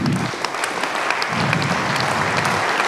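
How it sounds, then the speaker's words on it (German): Audience applause fills the German Bundestag chamber during the second Corona Symposium in November 2023, a dense, steady clatter of many hands clapping for about three seconds with no voices over it. "Applaus"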